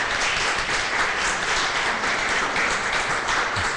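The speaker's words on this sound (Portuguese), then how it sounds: "Vamos dar uma salva de palmas para o Duda?" At a talk on the Brazilian gourmet coffee market, an audience gives a round of applause: a steady, dense clatter of many hands, fairly loud and close, with no speech over it.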